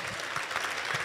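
A church gathering applauds the Lord, dense, continuous clapping from a crowd, loud and close throughout the short moment.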